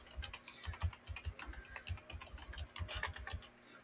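A computer keyboard tapped quickly to type a search, a rapid run of close, light clicks with brief pauses and a steady low hum beneath.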